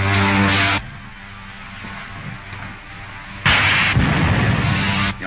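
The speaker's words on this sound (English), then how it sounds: "Fire a blast into the tail surface as I level out. They're going to shoot us down." Blaster shots in a 1939 Buck Rogers serial are fired at Killer Kane's spaceship. Two loud, booming bursts are separated by a lower rumbling stretch, with no talk over them.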